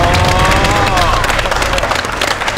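A studio audience at an Iron Chef Thailand cooking battle applauds loudly. The thick, sustained clapping and crowd noise has a voice faintly under it.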